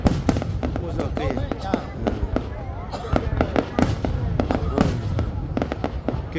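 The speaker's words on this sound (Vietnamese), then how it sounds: "Những màn pháo hoa rực rỡ chào đón vào năm 2024 đầy khởi sắc." Dense crackling New Year 2024 fireworks with a steady stream of sharp pops and bangs, loud and close, while excited voices chatter over the display.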